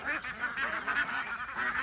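Wild ducks in a Russian village setting, a loud, continuous chorus of honking, quacking calls from several birds close by, with no talk over it.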